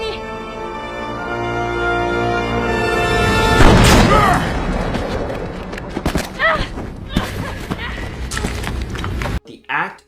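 A gunshot fired at point-blank range in a 2010 western film scene bursts out loud near the four-second mark over a sustained orchestral score, followed by scattered rumbling thuds and effects before the music cuts off abruptly.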